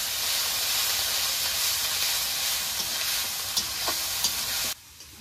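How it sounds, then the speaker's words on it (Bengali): Spice paste seasoned with salt and turmeric sizzles steadily in a pan for lote fish bharta, a continuous loud frying hiss with occasional stirring clicks, cutting off abruptly near the end. "এবার নেড়ে চেড়ে মশলাটাকে একটু কষিয়ে নেব।"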